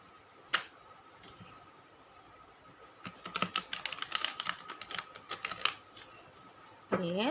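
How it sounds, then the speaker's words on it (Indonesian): Tarot cards being shuffled by hand: a quick tap, then a dense burst of crisp, rapid clicking and riffling at close range, settling into quiet at the end. "Oke, kita sapel kartunya."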